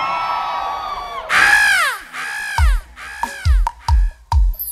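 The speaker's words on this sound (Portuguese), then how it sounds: "A mulher que gosta de brega dá um grito" Women in a concert audience at a live brega show at the Festa da Banana let out a loud, sustained collective scream that falls in pitch. Punchy drum hits then break in.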